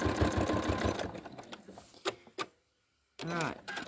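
A sewing machine stitches fabric for collage quilt piecing, running in a quick rhythmic burst up close, then a few clicks and a brief pause before stitching resumes.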